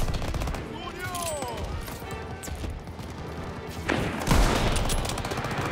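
Rapid automatic gunfire from a World War II shooter game, Call of Duty WWII, sounding as dense continuous bursts that swell louder near the end, with someone talking over it.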